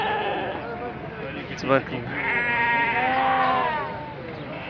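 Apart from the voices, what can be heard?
sheep and lambs bleating at a livestock market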